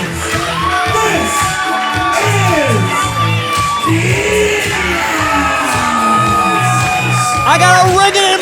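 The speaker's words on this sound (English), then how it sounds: "This capacity crowd is letting them know the love they have for Nina." A capacity wrestling crowd cheers loudly for wrestler Nina with shouts, whoops and yells, while a commentator talks over the roar for the whole stretch.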